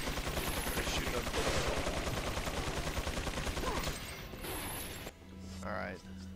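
Gunfire in the Resident Evil 4 HD Assignment Ada mode, a loud rapid burst of repeated shots with mechanical clatter for about four seconds, then quieter game ambience and a faint voice.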